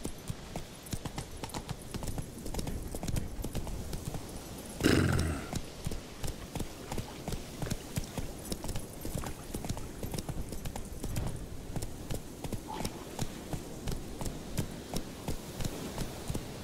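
The horse Roach's hooves clip-clop at a steady walking rhythm throughout, close and moderately loud, in a video game, with a brief louder snort or whinny partway through.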